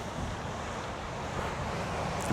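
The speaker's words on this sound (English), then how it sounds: "Look at the sea, it's wild." Wild, stormy sea off the Isle of Arran roaring under strong wind, a continuous dense rush of surf and gusts buffeting the microphone, loud and unbroken.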